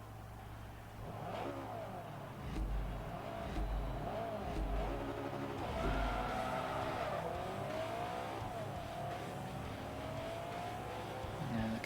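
Race car engines in the racing game Forza Motorsport 3, including a Camaro, rev and accelerate with shifting pitch and occasional tire squeal, a continuous moderately loud drone throughout.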